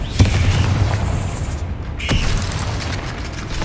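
Confringo blasting-spell explosions in the Hogwarts Legacy video game: a dense rumbling roar of booms, with a sharp burst near the start and another around two seconds, no talk.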